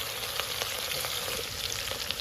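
Green chilies and green garlic hit hot oil with mustard seeds, giving a dense, steady sizzle and crackle that runs evenly throughout at close range, with no voices over it.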